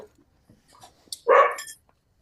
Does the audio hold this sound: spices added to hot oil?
no